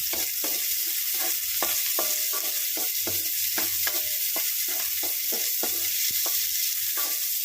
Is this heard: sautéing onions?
yes